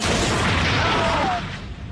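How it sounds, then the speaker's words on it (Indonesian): A heavy boom of an explosion from a car blast in the 2025 film Shark: The Storm, a loud sustained rumble that fades toward the end, with no speech over it. "setelah ledakan itu terjadi"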